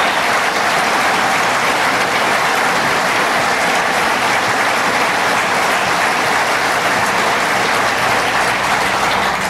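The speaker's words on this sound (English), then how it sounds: "let's give him a round of applause." Sustained applause from a large audience at a government announcement event, dense and loud clapping that holds steady throughout with no pauses.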